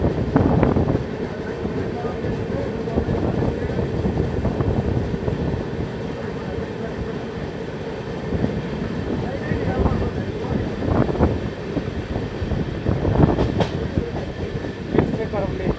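Passenger train on the Tamil Nadu Express running on the rails at speed, heard from inside a coach as a continuous low rumble with occasional clatters and rail knocks, steady and fairly loud.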